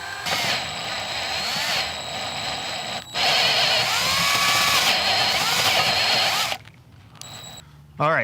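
A power drill or rotary tool bores a 3/4 inch hole through a Bronco 2021+ Power Tank mount, a loud steady grinding whine with rising and falling pitch that stops briefly, then resumes before cutting out near the end.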